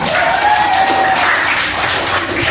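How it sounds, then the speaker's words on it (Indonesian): A class of sixth-grade pupils applauds together in a Quran lesson, a steady, dense patter of clapping that runs the whole time at even loudness, with a faint voice or tone drifting over it early on. "Tepuk tangan untuk kita semua."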